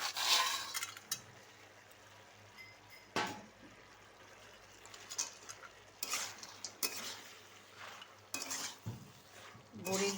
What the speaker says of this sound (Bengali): বড়ি দিয়ে নাড়াচাড়া করে